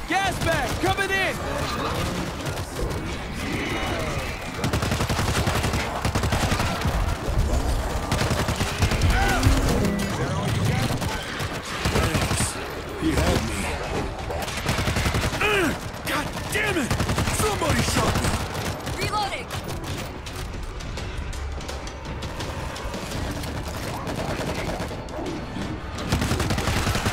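Dense, continuous gunfire fills a zombie fight in the co-op shooter World War Z, set in New York, with rapid bursts, loud impacts and chaotic action while characters shout over it.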